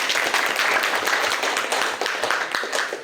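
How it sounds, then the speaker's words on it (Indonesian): Audience applause at a village cash-aid handout event in Desa Buki, a dense, steady burst of many hands clapping close by for about three seconds before tapering off. "Boleh tepuk tangannya?"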